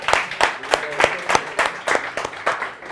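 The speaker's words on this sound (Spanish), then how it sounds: "Un aplauso." Audience at a Scala programming meetup gives a short burst of clapping, a handful of distinct claps in a loose rhythm over about three seconds, fairly close and not very dense.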